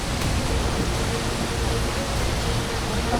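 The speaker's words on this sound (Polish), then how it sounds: "Ojej, wodospad, wodospad, wodospad. Słyszę, widzę" Broadband roar of a waterfall beside a coastal road, a dense, constant rushing wash with no breaks, loud and steady throughout.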